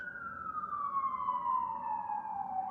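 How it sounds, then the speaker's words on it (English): A single long siren wail glides slowly downward in pitch, steady and moderately distant, with a faint low rumble of traffic beneath. "Oh, the sirens, Diane."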